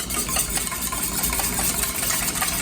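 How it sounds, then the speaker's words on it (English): Neutral grapeseed oil is whisked in a thin stream into a mustard vinaigrette, making a continuous, fairly loud, close-up scraping and swishing that stays even throughout. "we're going to whisk this in a thin stream"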